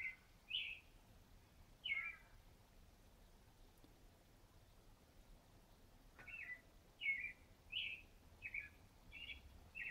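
Small bird chirping over and over: short, sharp, high tweets come in two separate bursts with a pause between them, fairly faint over quiet background noise.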